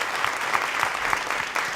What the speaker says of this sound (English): give an enormous round of applause to our awesome panelists.